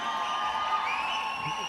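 A crowd at the RRR film press meet cheers and applauds in a dense, steady roar of mixed voices and clapping that holds at an even level throughout.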